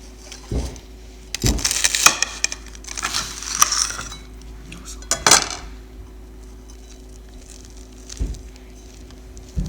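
A masala omelette being pressed down in a pan, heard as a few scattered clinks and scrapes of a utensil against the pan with soft squishing, in bursts separated by quiet stretches.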